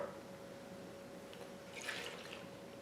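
Faint, soft trickle of cold water being poured into sifted flour, a gentle splashy wash that swells briefly near the end, quiet and close.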